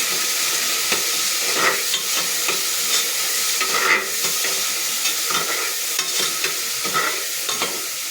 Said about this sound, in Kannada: ನೋಡಿ ಈಗ ಬಟಾಣಿ ಮೆಂತ್ಯ ಎಲ್ಲ ಹಾಕಿದ್ದೀನಿ, ಹುರಿತಾ ಇದ್ದೀನಿ ಚೆನ್ನಾಗಿ.